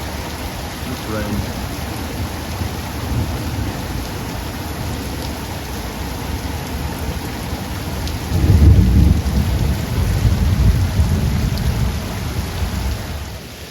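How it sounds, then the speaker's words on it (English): Heavy, soaking rain pours down steadily in Leakey, Texas, with a loud, close roll of thunder swelling partway through and rumbling on under the constant hiss of the downpour. "Rain."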